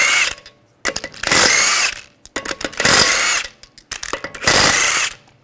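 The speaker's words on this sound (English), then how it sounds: "use a 17mm socket, take the lug bolts out" Power tool spinning out the lug bolts on a 2009-2010 BMW 535i xDrive wheel with a 17mm socket, three loud bursts of whirring drill noise separated by short pauses and clicks, close and clear.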